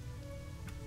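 Rain falling in the World of Warcraft video game, a steady dense patter across the whole brief moment, fairly loud and close with no voices.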